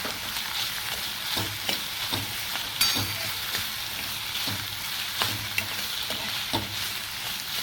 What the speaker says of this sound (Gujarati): હવે આપણે જે આ બાફેલું બટેટું લીધું હતું ઝીણું ઝીણું સુધારીને એને એડ કરવાનું છે